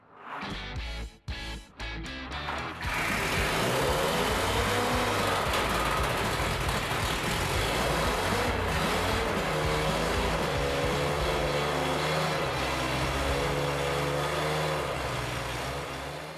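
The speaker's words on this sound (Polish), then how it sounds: "Silnik pracuje bardzo ładnie." A restored Jeep Willys engine, freshly tuned with new oil, valve clearances, ignition and carburetor set, sputters through a few starting attempts, then catches and idles steadily and evenly nearby.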